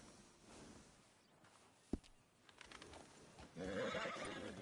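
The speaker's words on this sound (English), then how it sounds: "That horse doing all right?" A horse whinnies once in Red Dead Redemption 2, then hooves clop and shuffle nearby, fairly quiet overall.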